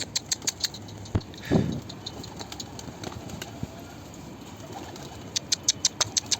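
A pigeon being fed on the ground gives a few soft coos and rustling, scattered amid sharp ticking clicks at the start and end, with one louder low burst near the middle; all fairly quiet and close.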